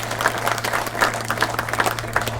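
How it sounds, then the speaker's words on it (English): Wedding guests at a ceremony break into a steady round of applause, dense overlapping clapping from a seated crowd that fills the room evenly throughout. "Nice round of applause for Tiffany"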